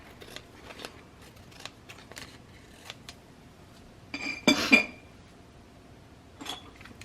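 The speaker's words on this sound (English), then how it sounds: "I'm just going to trim these apart." Scissors trimming paper pages apart, with light scattered snips and then a louder, close run of cutting in the middle and one more snip near the end, in a quiet room.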